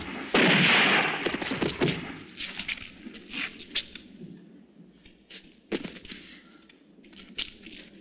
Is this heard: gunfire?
yes